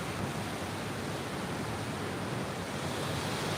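Water rapids rush through woods at night, a dense continuous roar of flowing water with no breaks, close and fairly loud.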